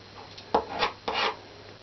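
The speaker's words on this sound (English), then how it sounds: "And just rub it side to side." Paint is rubbed side to side on a seascape painting in two short scrubbing strokes, a close, soft rasping friction on the surface, heard alone.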